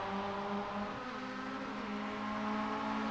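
Mazda MX-5 race cars in a sim racing game at Road America drone with steady engine tones that shift pitch as they rev and change gear, loud and continuous with no talking.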